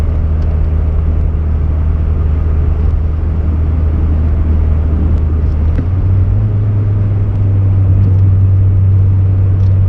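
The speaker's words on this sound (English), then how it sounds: "Oh, that exhaust drives me a little nuts, hearing that rattling." A 1990 VW Corrado G60 with 90,000 miles drives along a road, its supercharged engine giving a loud steady rumble with a loose exhaust rattle mixed in and a slight pitch shift near the end, heard from inside with no talking.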